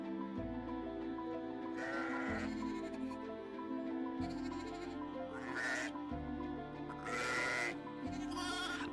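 Sheep grazing on dry grassland bleat a few times, at spaced intervals and at moderate distance, over a steady low background with a regular stepping tone.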